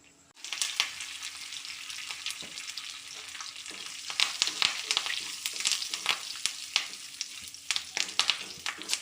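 Mustard seeds, dal, cumin and curry leaves frying in hot oil as a tempering for mango chutney, a close crackling sizzle that starts abruptly and continues with sharp irregular pops, growing busier toward the end.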